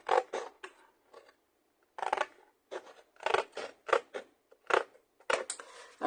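Scissors snip through card in a series of crisp, close cuts, about a dozen short crunching strokes with brief pauses between, alone and clear.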